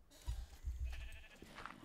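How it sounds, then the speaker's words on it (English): A sheep in Minecraft gives a few quiet, short bleats in quick succession, faint and close, with soft game background and no talk. "There's a sheep."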